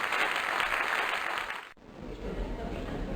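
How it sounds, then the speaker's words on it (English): Cartoon crowd applause in the 1998 video game Freddi Fish 3 fills the first half as a loud, steady roar, then cuts off abruptly to a quieter background. "Let's hear some applause!"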